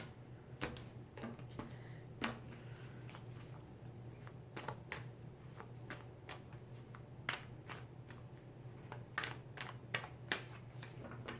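A tarot deck is shuffled and cut over and over by hand, giving repeated crisp riffling snaps and card slaps over a steady low hum, close up with no talking.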